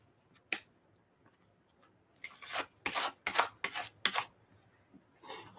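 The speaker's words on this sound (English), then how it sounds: "And I'm just going to scrape on my gesso." A well-used scraper tool drags gesso across an art journal page in a series of short, gritty rasping strokes, one isolated scrape followed by a quick run of about five closely spaced scrapes.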